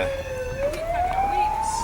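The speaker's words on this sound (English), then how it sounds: "Police siren sound." A police siren wails nearby during a road running event, a single rising tone sweeping upward steadily and clearly above low traffic rumble, no voices over it.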